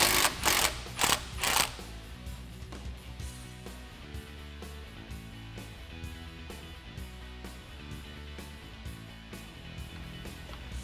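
A ratchet fitted with a 15mm deep socket clicks in quick, repeated strokes as it loosens the bolts on a Jeep Wrangler JK drag link collar. A few loud knocks come first, then a steady run of close, even ratcheting.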